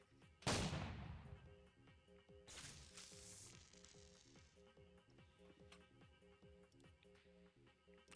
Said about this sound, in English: Gonna shoot him again.